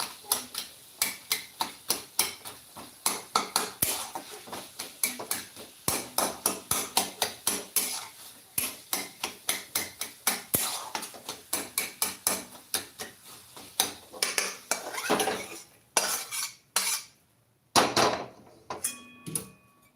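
Steady rhythmic pounding and thudding of roasted eggplant being crushed with a hard tool in a pot, continuing in quick repeated strikes with a few pauses.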